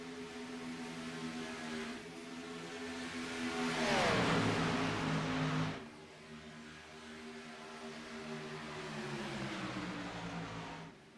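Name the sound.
race cars driving out of turn 4 at Daytona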